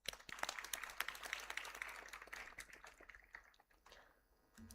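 Audience applause for industry leaders at an induction programme, faint and scattered clapping with individual sharp claps standing out, thinning toward the end.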